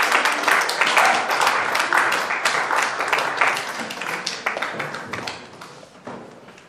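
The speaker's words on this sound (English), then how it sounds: "can you all give a big round of applause" Audience at a World Humanitarian Drive awards seminar gives a round of applause, many distinct close claps forming a loud, busy patter that gradually thins and fades toward the end.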